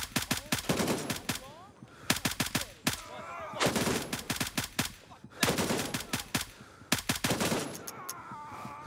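Rifle fire from the military shooter Gray Zone Warfare, an M4-style weapon, rattles out in rapid bursts and single cracks, loud and close, with short gaps between strings of shots and echoing tails.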